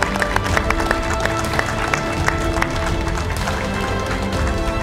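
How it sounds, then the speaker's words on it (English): Audience applause and crowd noise at a Street Fighter V esports event in the Gfinity Elite Series, a steady, dense roar of clapping and cheering that lasts throughout with scattered louder claps. "Give him a round of applause."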